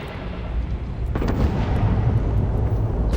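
Spaceship thrusters firing in the video game Starfield, a sustained broadband roar that swells after a moment and holds steady and loud, with low rumbling underneath and no talk.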